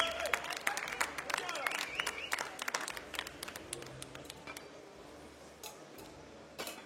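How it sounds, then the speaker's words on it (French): An audience at a bartending competition applauds in a steady patter of claps that fades over several seconds, while crowd chatter and a voice carry on underneath. "Allez, Lyon, un peu d'applaudissements pour Joanie, technique du Blue Blazer."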